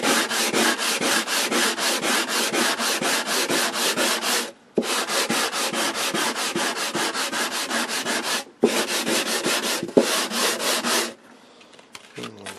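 Rhythmic back-and-forth scraping of sandpaper on a sanding block against a wooden radio cabinet, fast steady strokes in three long bursts with brief pauses, close and loud.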